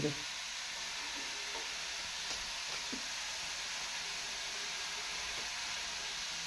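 Chilies sizzle on a hot griddle as a soft, even hiss that holds steady throughout, with a couple of faint knocks, quiet and without talk.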